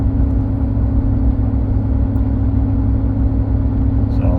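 A 2012 Ram 1500 Tradesman pickup with Ram box pulling up a small hill, its engine a steady, loud low drone heard from inside the cab with no break in the hum.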